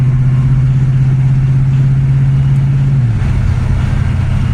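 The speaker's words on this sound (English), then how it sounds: "would not want to shift into overdrive. I'm giving it kind of light throttle." A 1982 Ford LTD engine running under light throttle, a loud steady drone whose pitch holds and then drops as the transmission shifts, heard from close by with no speech.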